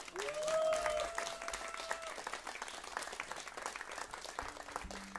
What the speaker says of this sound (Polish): Bicie brawo!